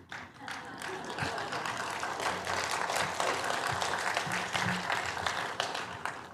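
A congregation at a prayer meeting claps steadily for several seconds, a broad, even wash of applause with a faint low hum underneath.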